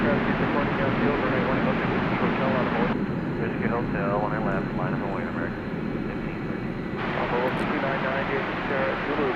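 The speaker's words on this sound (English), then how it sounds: "There's the 777 to Dublin." Boeing 777 jet engines roar steadily at an airport at night, a broad continuous rumble that holds throughout, with people talking faintly underneath.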